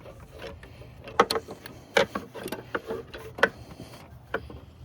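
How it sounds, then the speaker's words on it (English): A ratcheting socket wrench turning out an O2 sensor on a car, with irregular sharp metallic clicks and ratchet bursts, close and distinct against a quiet background. "all I gotta do now is just take it off with the wrench, socket wrench"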